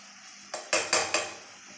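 Banana flower chutney ingredients with tamarind, salt and coconut being stirred in a pan, heard as three or four quick scraping clinks of a spoon against the pan, close and brief, with no talking.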